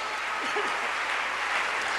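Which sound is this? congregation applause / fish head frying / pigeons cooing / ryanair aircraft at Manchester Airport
congregation applause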